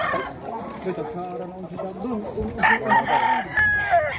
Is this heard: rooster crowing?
yes